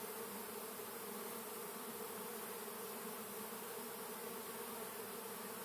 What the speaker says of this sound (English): Now this is definitely a European honeybee swarm.